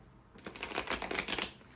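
Playing cards are riffle-shuffled in a quick, crisp flurry of rapid fluttering clicks lasting about a second and a half, close and fairly quiet, with no talking over it.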